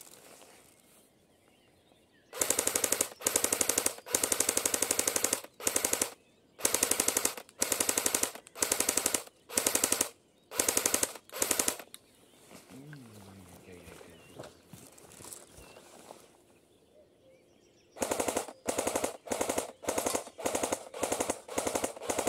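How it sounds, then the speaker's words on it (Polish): Outdoors in a forest, a Cyma CM028U airsoft gun fires on full auto in rapid, sharp bursts of varying length. A long pause in the middle holds faint background sounds, then more bursts follow. "Z powrotem ogień ciągły."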